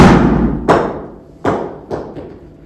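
Golf shots struck into an indoor launch monitor hitting bay, four separate heavy thuds at uneven intervals, close and loud, each ringing out briefly before fading, with no talking.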